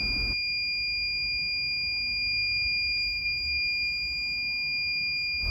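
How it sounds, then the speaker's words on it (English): A warning alert system alarm tone: a steady, piercing electronic beep held continuously and loudly for several seconds, unbroken and alone. "If you've had enough of this annoying alarm, you must share this video immediately to deactivate the alarm."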